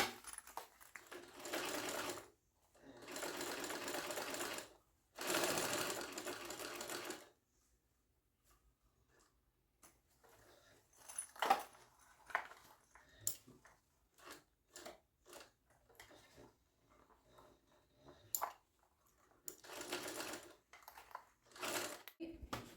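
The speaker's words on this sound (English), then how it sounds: "I'm going to start here with the top stitch and then go around and baste the side, and then I'm going to stop and then do the other side." Sewing machine top stitching and basting the sides of a mini convertible backpack, several loud bursts of steady whirring separated by pauses, with quieter handling clicks and rustles between runs.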